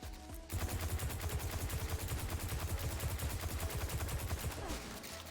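Automatic fire from a hard-kicking gun in a video game rattles out in a fast, dense, loud stream of shots after a brief quiet start, running almost unbroken to the end.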